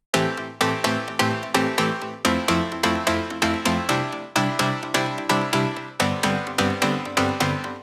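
A rhythmic EDM chord progression of punchy synth chords in a steady syncopated pattern, each stab decaying quickly and the chords changing every two seconds or so, loud and clear with no voices.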